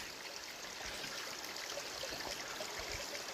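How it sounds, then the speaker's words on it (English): Water trickles steadily down a small waterfall on a backpacking route into the Black Canyon of the Gunnison, a soft, continuous splashing wash heard alone and fairly faint. "Plenty of water trickling down from the little waterfall."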